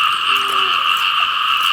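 Frogs croak during a night frog hunt in rural fields, a dense, steady chorus of buzzing calls filling the air, with a brief lower croak close by and no talking.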